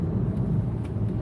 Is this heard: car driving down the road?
yes